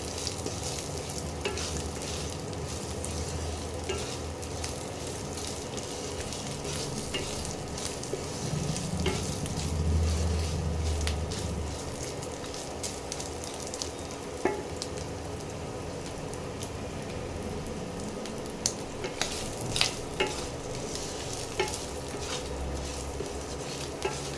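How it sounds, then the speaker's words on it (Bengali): Dried red chillies frying in a pan, a continuous moderate sizzle and crackle with occasional scraping from stirring, no talking over it. "এবারে শুকনো লঙ্কাগুলো দিয়ে দেবো।"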